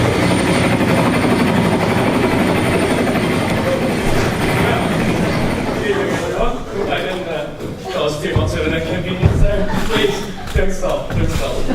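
A helicopter sound effect in a school play, a loud, rumbling rotor-like roar that fills the hall for several seconds and then breaks into choppier, uneven bursts, with voices talking over it.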